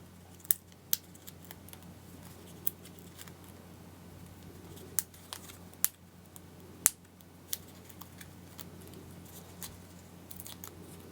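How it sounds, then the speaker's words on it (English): Sharp, sparse snips of scissors cutting paper, irregularly spaced over a quiet room hum. "Those thin little pieces I was able to cut with just my regular scissors."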